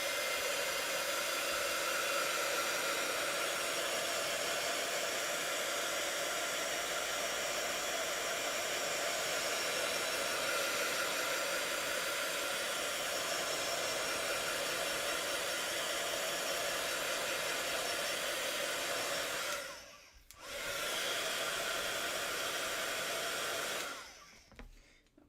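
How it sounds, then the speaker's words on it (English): A heat gun blows steadily at close range, used for embossing on a papercraft fantasy map, a loud continuous hiss-roar that briefly cuts out and restarts near the end before stopping, with no speech. "I'm about to turn on the heat gun."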